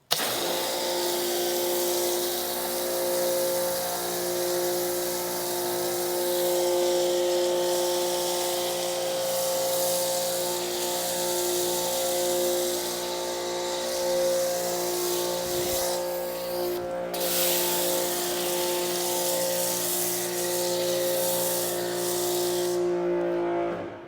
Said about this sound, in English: Let's load this thing up with foam.